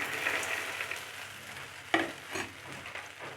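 Crispy fried chickpeas tossed in a hot pan with chilli sauce, the gas turned off, giving a steady soft sizzle with scraping stir sounds and a sharper clatter near the middle, no talking.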